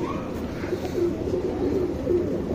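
A pair of pigeons, a male and a female flying breed, gives soft, low coos in short repeated phrases over a constant background murmur.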